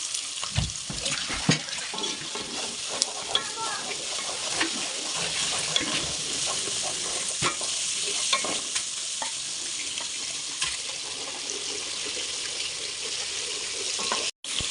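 Onion and garlic paste frying in oil for a hill chicken curry, a steady broadband sizzle under repeated stirring scrapes and small clinks, continuous and fairly close, with no talk.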